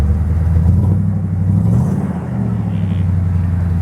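A throaty 30-year-old 5.8 V8 Ford Bronco engine with a custom MagnaFlow exhaust and shorty headers rumbles loudly, revving up and settling back into a deep idle, close by.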